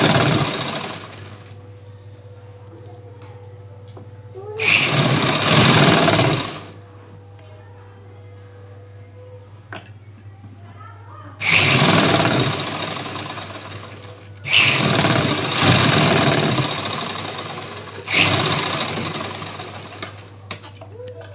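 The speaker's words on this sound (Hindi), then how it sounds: "अब हम इस पर सिलाई लगाएंगे पक्की, एक पैर की गैप छोड़ते हुए सिलाई लगाएंगे।" A sewing machine stitches blouse fabric together with its lining, running in several loud bursts of a few seconds each, with quiet pauses between them.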